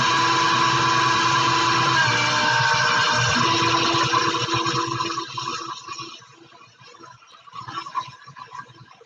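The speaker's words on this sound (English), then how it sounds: "it would be nice if I plugged in the mixer first, right? Yes, mixer wasn't plugged in" An electric mixer runs while creaming dough for butter flower cookies, giving a steady, loud whirring drone that holds for several seconds and then fades to quieter, irregular motor noise, close by, with no talking.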